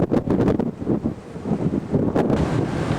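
Strong wind buffets across the deck of the navy supply ship USS Rainier at sea, a loud, continuous rumbling gusty roar pressing on the microphone with faint wash of water beneath.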